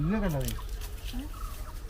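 A chicken gives a few short clucks and squawks close by, with faint background chatter.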